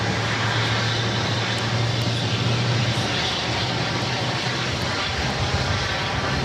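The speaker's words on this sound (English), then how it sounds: "This is United Airlines 1287 taking off to Newark" A United Airlines Boeing 757-200 jet taking off at Phoenix airport, a loud, steady, broadband engine roar that fills the whole stretch without letup, heard from nearby on the ground and without any talking.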